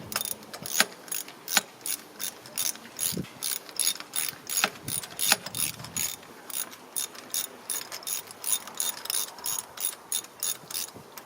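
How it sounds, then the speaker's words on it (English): A hand ratchet tightens a spark plug on a 2004 Chevy Optra, giving a close run of sharp, rhythmic clicks in repeated short bursts with no talk over them. "Now in tightening this spark plug, use a ratchet."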